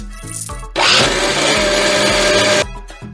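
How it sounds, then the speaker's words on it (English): A blender roars loudly up close for about two seconds blending coconut milk and sugar, a steady whirring grind that starts and stops abruptly amid quieter background music. "Now blend everything together."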